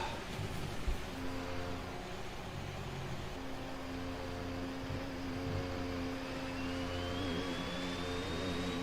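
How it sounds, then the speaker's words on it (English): Glitched car engine sounds in the F1 2021 racing game, a continuous droning whine that holds steady and rises slightly in pitch toward the end, with no talk. "I think the engine sounds are a bit glitched."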